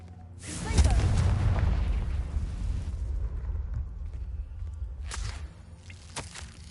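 A Confringo spell explosion in Hogwarts Legacy bursts with a loud, deep boom that swells and rumbles away over several seconds, followed by two sharper magical bursts near the end.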